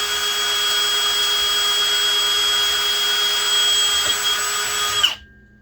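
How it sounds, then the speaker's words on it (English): A hammer drill with a slightly dull bit whines loudly and steadily for about five seconds, then cuts off abruptly, leaving near silence. "It's a hammer drill."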